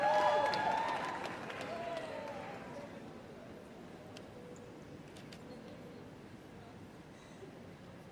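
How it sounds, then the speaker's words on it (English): An audience at an event clapping as a singer is introduced for the national anthem, a fairly faint patter of hands that is strongest at the start, then thins and fades into quieter crowd noise. "A round of applause for her, please."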